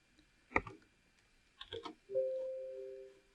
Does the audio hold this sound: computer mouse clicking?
yes